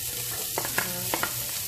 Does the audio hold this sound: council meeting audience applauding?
no